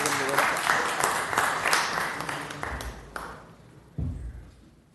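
A city council meeting audience applauds certificate recipients, with steady clapping that thins out and fades toward the end.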